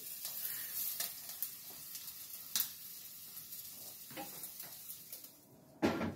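Onions sizzle steadily in a frying pan, with occasional stirring scrapes and a sharp clatter near the end, and nobody speaking.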